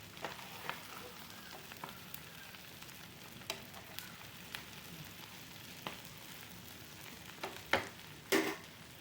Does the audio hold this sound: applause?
no